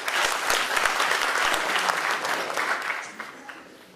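An audience at an Azerbaijani opposition gathering applauds a speaker. The clapping is loud and full at first, then thins and fades toward the end.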